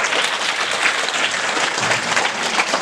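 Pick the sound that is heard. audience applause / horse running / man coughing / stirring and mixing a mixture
audience applause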